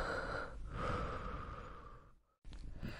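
Slow, deep breathing drifts from a bedroom in a horror tale, a sustained airy rush with a sighing swell that fades to near silence before another breath begins.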